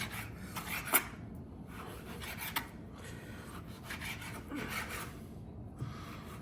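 A knife cuts pancetta into small chunks on a board: soft, faint scraping and rubbing strokes come in irregular bursts, with a few light taps of the blade between them.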